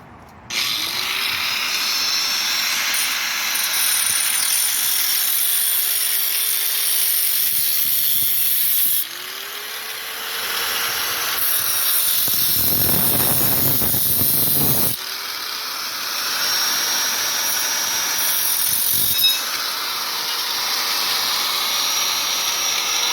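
A power tool whirs steadily while cutting through a tent pole, a continuous loud grinding buzz with brief pauses and restarts and no talk over it.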